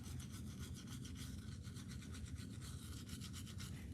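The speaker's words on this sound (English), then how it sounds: "I'm going to go ahead and brush all surfaces of her teeth" A toothbrush scrubs an elderly person's teeth in close, continuous rhythmic strokes, quiet and raspy with a soft rubbing texture and no talk.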